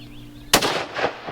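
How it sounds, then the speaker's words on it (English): A single rifle shot cracks loud and close during a wild pig hunt in California, then rolls off in a short echoing tail after a quiet lead-in. "Just go ahead and shoot him again, babe."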